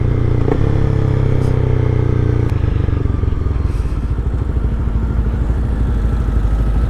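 A 2019 Honda CBR300R motorcycle is being ridden, its engine a loud, steady drone with a shifting pitch, and a couple of brief knocks and clatters early on.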